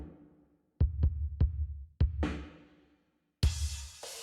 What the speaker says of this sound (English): if you just solo the drums, it sounds like this.